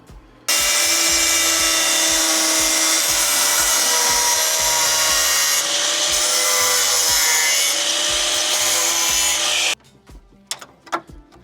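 A loud, continuous grinding screech of a power tool cutting through a metal wheel arch on a Mazda MX-5 NC, running steadily for several seconds before stopping abruptly, followed by a few clanks.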